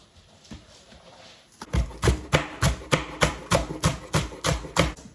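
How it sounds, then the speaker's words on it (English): A knife chops spring onion on a cutting board in about a dozen quick, evenly spaced thuds that start after a brief quiet moment, close and crisp. "Let's chop the coriander. Okay, it's time for the spring onion."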